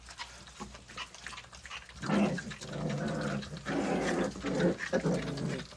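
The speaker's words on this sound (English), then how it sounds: "They're tearing this chicken up." Cane Corso dogs tearing into raw chicken, with low, rumbling growls and wet ripping noises that swell after a quieter start and carry on steadily, fairly close.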